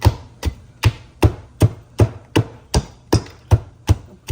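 Steady, heavy pounding of ingredients in a mortar and pestle while preparing a tinned fish dish, with about a dozen evenly spaced thuds, close and loud, alone.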